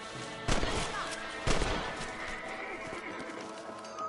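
In the Western video game Red Dead Redemption, a horse gives a loud whinny amid hoof clatter and sharp bursts of gunfire, close and prominent in the game mix.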